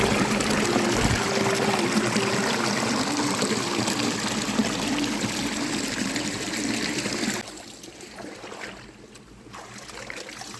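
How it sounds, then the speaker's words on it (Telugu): Water trickling and splashing steadily from a quarry waterfall at a picnic spot, a continuous broadband wash that stays loud for about seven seconds, then drops quieter and thinner for the rest. "ఇక్కడ చూసారా, ఇది అసలు వాటర్ ఇక్కడ నుండి వస్తుంది"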